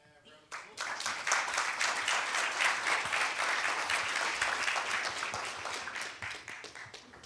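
A conference audience applauds after a keynote talk, a full burst of clapping that rises quickly, holds steady for several seconds, then tapers off.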